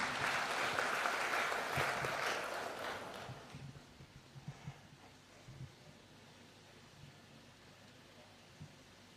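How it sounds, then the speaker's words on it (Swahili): Audience applause for the president at a bill assent ceremony at State House, Nairobi: a burst of dense clapping that fades after a few seconds into scattered claps and quiet room murmur. "Tumpigie Rais makofi kwa hiyo kazi."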